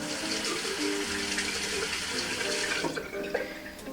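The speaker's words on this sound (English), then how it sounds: "I'm gonna rinse my blade." Running tap water pours steadily into a sink as a safety razor blade is rinsed beneath it, a close, even rushing flow that fades slightly near the end.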